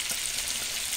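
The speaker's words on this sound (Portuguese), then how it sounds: "a Rogéria já fritando ali nas piabinhas" Small piaba fish frying in oil give off a steady, close sizzling hiss that stays even and unbroken through one brief moment, with no voices.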